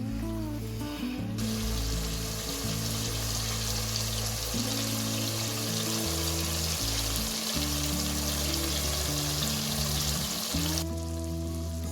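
Chicken do pyaza frying on a high flame in a pan, a constant loud hiss of sizzling that runs under background music for most of the stretch.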